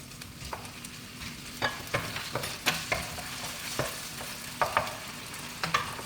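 Chicken pieces frying with onions in a home kitchen pan, a steady soft sizzle underneath intermittent sharp scrapes and clanks of a spatula stirring, moderately close with no talking.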